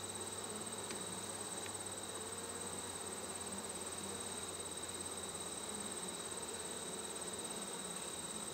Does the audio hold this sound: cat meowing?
no